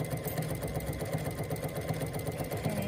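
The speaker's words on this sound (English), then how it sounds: "it's activating that cutting mechanism and it's actually cutting the material off of my fabric" A sewing machine fitted with a cut and hem side cutter foot trims fabric as it stitches, giving a steady rhythmic mechanical whir and clatter up close, uninterrupted and without speech.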